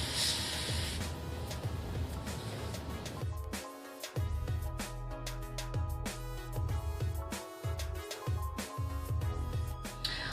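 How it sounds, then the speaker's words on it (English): A spray bottle misting water onto a curly-hair wig, giving repeated short hissy bursts in quick succession, close and fairly quiet, with no talking. "Now I'm just going in with my spray bottle to wet it a little bit."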